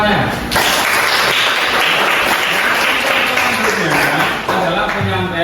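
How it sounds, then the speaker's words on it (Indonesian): Applause from a class of students, loud close clapping that rises suddenly and carries on steadily, with voices talking and calling out over it. "tepuk tangan semuanya."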